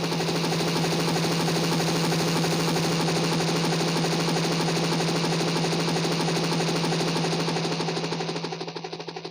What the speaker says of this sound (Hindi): हम उदयपुर के लिए अपनी हेलीकॉप्टर उड़ाने जा रहे हैं और मेरी हेलीकॉप्टर का पंखा नाच रहा है।